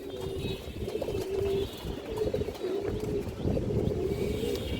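Pure Giribaz pigeons coo steadily in low, throaty rolling calls close by, overlapping one another continuously with faint chirps behind.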